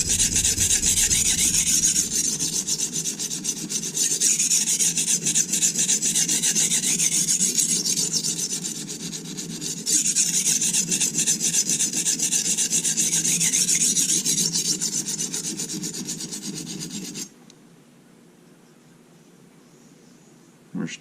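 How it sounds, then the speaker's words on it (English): A chef knife is stroked across an oiled Norton Crystolon combination stone, giving a steady, close, gritty rasping in repeated back-and-forth passes that stops abruptly near the end, leaving near silence. "you'll be able to tell by sound and by feel whether the stone is cutting the steel or not"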